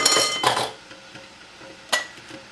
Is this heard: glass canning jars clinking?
yes